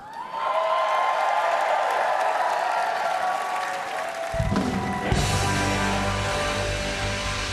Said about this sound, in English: You can hear it now, the applause and celebration here in Milwaukee, Wisconsin.